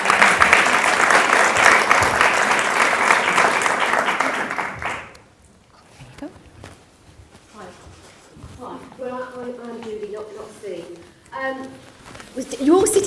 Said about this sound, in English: if I could have a warm round of applause for Judy